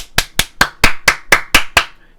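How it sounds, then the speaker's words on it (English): Passengers on a cruise ship clap after an all-clear announcement. About eight sharp, close claps come in an even rhythm, then trail off. "People were clapping"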